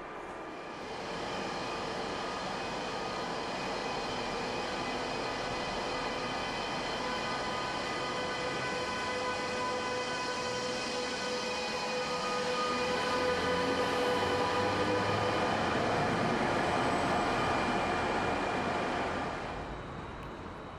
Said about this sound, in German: Ausfahrt für den EC nach Prag.